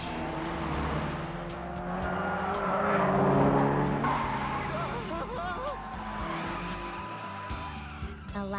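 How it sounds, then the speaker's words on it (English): A turbo-tuned car engine on a mountain road race, loud and close, with tire squeal and skidding through corners and a rising and falling engine note under dramatic music and a brief voice. "Just what I'd expect from a turbo-tuned car."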